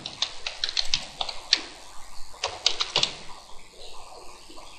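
A site name is typed on a computer keyboard in two bursts of crisp, close keystrokes separated by a short pause, with a quiet background and no speech.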